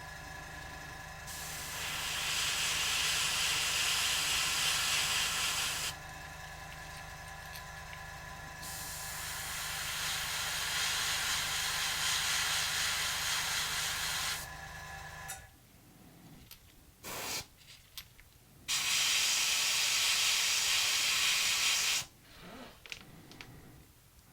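An airbrush sprays Old Bone White 5035 paint onto a model's dorsal fin in long, steady hissing bursts, stopping and restarting several times, with a few short spurts and quiet gaps in between.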